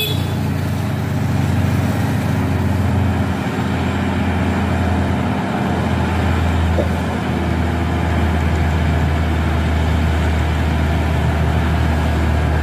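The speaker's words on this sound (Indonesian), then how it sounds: "Berat sekali ya muatannya teman-teman, terlihat dari suara mesin super grid soalnya." A heavily loaded Mercedes trailer truck hauling a container labours uphill on a steep climb, its diesel engine a loud, continuous low rumble that stays steady throughout with no voices.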